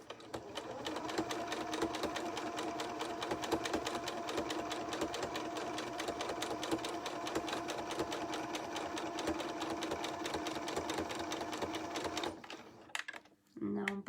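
A sewing machine stitches fabric for a Christmas tree hanging, sewing forwards and then back stitching in a long, steady rapid chatter that stops near the end, followed by a few short clicks.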